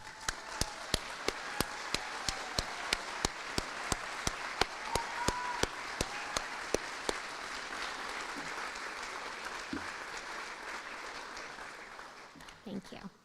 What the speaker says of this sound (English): Let's have them stand and give a round of applause.